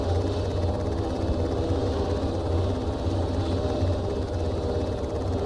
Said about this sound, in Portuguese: mais barulho que o helicóptero faz, impossível